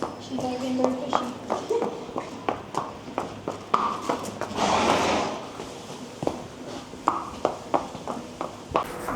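Hoofbeats clop on a hard surface at a steady walking pace, with a brief rustling burst in the middle; a voice speaks softly now and then.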